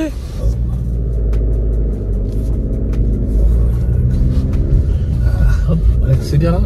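A Volkswagen Golf 7 TDI diesel car pulls away in first gear, its engine a steady, loud low rumble heard from inside the cabin, with people talking over it throughout.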